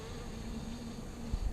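Faint, low insect buzzing of honeybees droning steadily at a hive, with a soft bump near the end.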